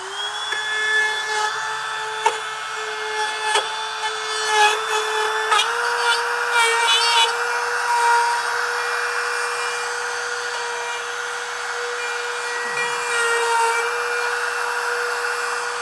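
A wood router running with a template bushing holds a steady, loud whine throughout, with small rises and dips in load as the bit cleans up a clogged cut path in the wood.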